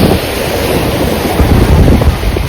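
Ocean waves rolling in at a crowded beach, a loud continuous surf roar mixed with wind buffeting the microphone, close and with no talking.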